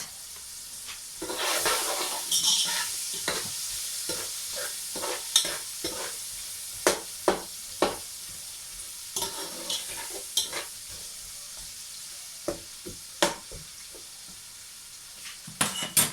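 Onions fry in a pan for a curry, a continuous crackling sizzle broken by repeated sharp clicks and scrapes of stirring, close up and with no voices.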